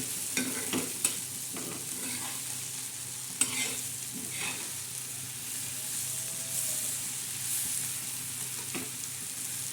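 Wild pathri greens being sautéed in a pan, giving a soft, steady sizzle with a few stirring scrapes near the start, fairly quiet and close, no talking.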